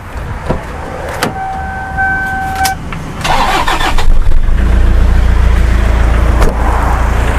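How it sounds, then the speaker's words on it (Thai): A few clicks and a brief whir, then a 2.5-litre diesel engine in a 4x4 pickup truck cranks and catches, settling into a loud, steady idle close by, through an aftermarket exhaust. "ฟังเสียงเครื่องยนต์หน่อยนะครับ"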